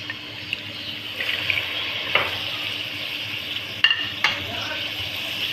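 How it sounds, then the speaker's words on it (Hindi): Steady hissing of minced meat frying with spices and a little water in a pan, with occasional spoon clinks and scrapes against the pot, close up and continuous. "पानी डाल के थोड़ा सा भूनेंगे इसको"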